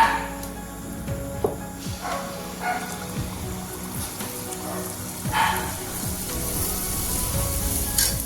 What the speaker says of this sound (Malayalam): വെളിച്ചെണ്ണ ചൂടായതിന് ശേഷം നമുക്ക് മാവ് കോരി ഒഴിക്കാം